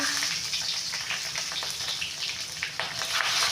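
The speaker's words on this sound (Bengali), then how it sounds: "তেল গরম করতে দেবো পাঁচ ফোড়ন দিয়ে দেবো কাঁচা লঙ্কা দিয়ে দেবো" Panch phoron and green chillies frying in hot oil, a steady bright sizzle with crackling pops throughout, close and loud, with no talking.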